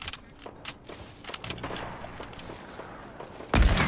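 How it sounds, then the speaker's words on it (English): Enemy gunfire in Fortnite coming from the north, scattered sharp shots and short bursts at mid distance, ending in a louder, heavier blast close by. "Shooting from north."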